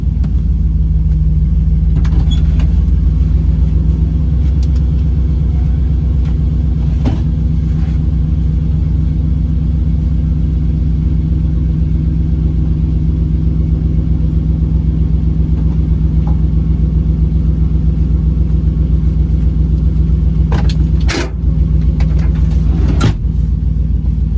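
A turbocharged LS-swapped Chrysler Caravan minivan cruising at a leisurely pace, its engine giving a steady, loud low rumble throughout with brief knocks and rattles from the cabin.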